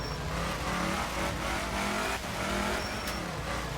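A Lancia Fulvia rally car in the racing game Art of Rally, its engine droning loud and continuous as it accelerates uphill, with a short dip in revs around a gear change before climbing again.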